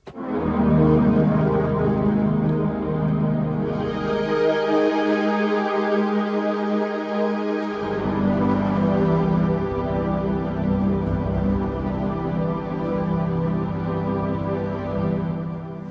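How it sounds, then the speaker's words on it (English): A rich, sustained synthesizer pad from a Korg iM1 plays a slow chord progression, swelling brighter midway, with an airy, echoing texture and no voices. "So the Night Dad voice on the iM1 is going to sound like this"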